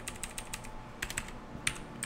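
Rapid bursts of keystrokes on a computer keyboard while writing C++ code, irregular clusters of close, crisp clicks with short pauses between them.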